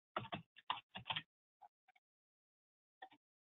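Someone types on a computer keyboard while filtering records in business accounting software. Quick bursts of soft, close key clicks come first, then sparse single taps and short pauses, with no talking.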